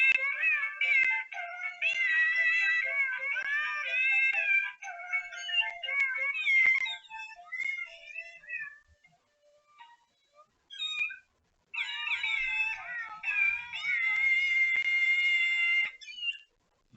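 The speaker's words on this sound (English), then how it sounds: "Kitten singing happy birthday" Electronic cat meows sung to the Happy Birthday tune from a pop-up birthday card, a bright warbling melody running several seconds, pausing, then starting over, close and clear with no talking.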